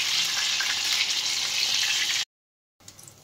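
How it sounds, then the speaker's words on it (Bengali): Eggplant slices fry in hot oil with a loud, steady sizzle for about two seconds, then the sound cuts out and a quieter sizzle returns. "আমরা একে একে বেগুনগুলোকে লালচে করে ভেজে"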